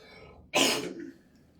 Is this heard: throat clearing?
yes